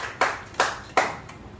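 Three slow, separate hand claps ring out at a community event in a hall, each sharp and close, spaced evenly with quiet in between.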